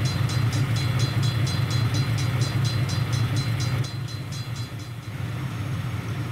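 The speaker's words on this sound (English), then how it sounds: "Dude, look how slow my train is going." A rolling Roblox train rumble with a rapid, regular clicking rhythm over a low hum; the clicking stops partway through while the drone continues.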